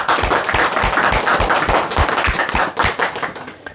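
An audience at a Korean lecture on liberation (해탈) breaks into dense, loud applause that holds steady for the whole stretch, with heavier thumping claps standing out near the front of the crowd.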